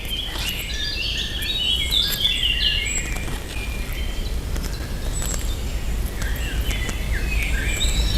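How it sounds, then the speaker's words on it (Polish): Several birds chirp and trill steadily in spring against a constant low rumble, with faint insect buzzing filling the background throughout. "jak się człowiek zasłucha, szczególnie na wiosnę, to mamy tu ptasie radio"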